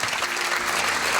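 An audience at a Malayalam music show stage applauds the orchestra with steady, dense clapping from many hands, close and full throughout.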